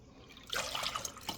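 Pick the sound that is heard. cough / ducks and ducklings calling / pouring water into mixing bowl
pouring water into mixing bowl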